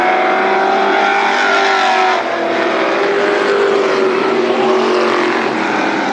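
Late model race cars roar around Berlin Raceway, loud sustained engine drone with shifting pitch as cars pass close by, continuous throughout.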